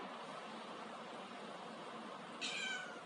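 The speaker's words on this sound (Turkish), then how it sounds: "Sarı Sarı kız, sarı kedi gel." A cat gives a brief meow near the end, against steady background hiss with no talking.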